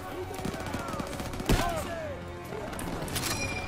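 Gunfire in Call of Duty: WWII, several quick shots and bursts crackling over a steady game background, one sharp louder report near the middle, with a faint voice speaking alongside.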